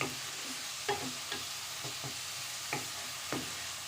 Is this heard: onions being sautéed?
yes